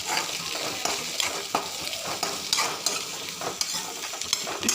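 Chopped tomato sautéing in a pan for Kerala-style fish curry: a steady sizzle and fry with repeated scraping stirs of a spoon against the pan, close and continuous.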